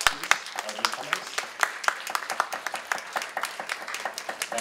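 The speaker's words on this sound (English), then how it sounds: "everyone give them a round of applause, please, newcomers." A church congregation at an English worship service claps to welcome newcomers, sparse, uneven individual claps with distinct sharp hits rather than a dense roar, moderately close, with faint voices underneath.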